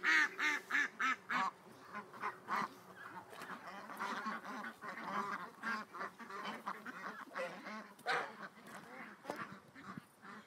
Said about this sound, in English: Ducks are circling the house though.